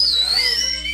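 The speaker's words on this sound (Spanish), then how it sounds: "Que siga ese chiflido de los hombres" A high, sustained whistle from a group of men glides slowly in pitch over a steady low hum, with faint voices in the background.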